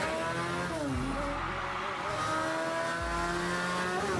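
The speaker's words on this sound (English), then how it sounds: "the Liqui Moly Bathurst 12-hour cars here on Mount Panorama" Race cars of the Liqui Moly Bathurst 12 Hour scream around the Mount Panorama circuit, engines revving and shifting continuously at high volume, with tyre noise and no speech.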